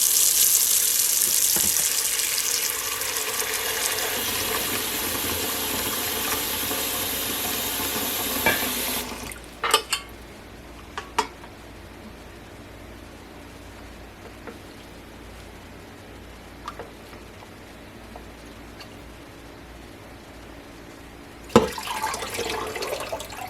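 Honeysuckle flowers rinsed under a running kitchen tap, a loud steady rush of water for several seconds, then stopping, leaving quiet handling noises and a few soft knocks before water briefly resumes.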